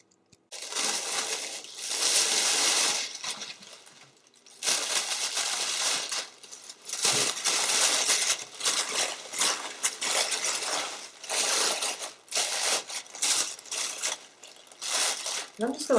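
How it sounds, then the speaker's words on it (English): Gold tissue paper, sparkly on one side, is handled and crumpled around the top of a holiday gift basket, giving near, loud bursts of crinkling and rustling with short pauses between them, all with no talking. "tissue paper and I'm going to put it around the top."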